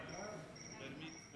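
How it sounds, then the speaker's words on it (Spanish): A cricket chirps steadily in a quiet indoor chamber where a senate session is under way, a thin, faint, continuous trill against low room hum. "¿Ese es un grillo natural o es un grillo a propósito?"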